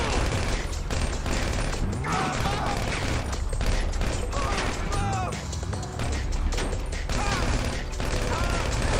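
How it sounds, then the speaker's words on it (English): A police officer fires a gun in a video game bank-robbery scene, a dense, loud barrage of rapid shots and mechanical clatter running continuously amid game noise. "tem um guarda atirando"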